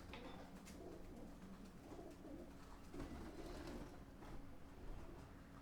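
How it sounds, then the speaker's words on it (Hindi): Pigeons coo softly in repeated low, throaty phrases, faint and somewhat distant, over a steady background hum with no talking. "इंट्रूडर्स, कबूतर"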